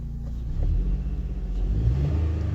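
A 2005 Honda Odyssey with multiple check-engine codes and poor throttle response revs up, a deep rumbling engine swell rising and wavering over a couple of seconds, heard from close by without talk.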